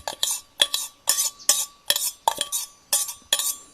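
A spoon scrapes and knocks around a pot of Thai curry being mixed, about eight quick, evenly spaced stirring strokes, close and clear with no voices.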